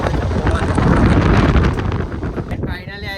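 Strong wind gusts across the shore of Saputara lake, a loud continuous broadband roar buffeting the microphone for about two and a half seconds before easing, with faint voices underneath.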